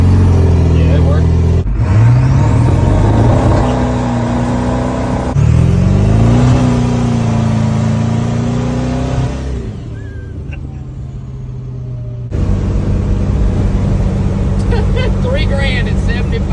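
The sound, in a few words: Ford 7.3 diesel ambulance truck engine revving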